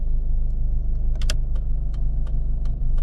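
Honda Civic engine idling low with a steady deep hum, close and constant, a few faint metallic clinks on top.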